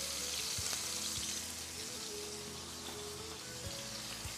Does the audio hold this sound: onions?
yes